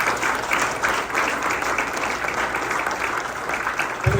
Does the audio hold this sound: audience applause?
yes